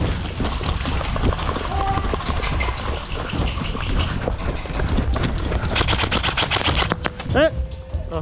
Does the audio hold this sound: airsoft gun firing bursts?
yes